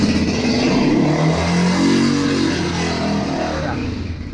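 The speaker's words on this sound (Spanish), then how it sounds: "Le vamos a acelerar un poco más a ver si acelera más a los 15." An Italika FT150 motorcycle engine is held at elevated revs and pushed a little harder, a loud, close, steady droning rumble that swells slightly in the middle before easing off, with no talking.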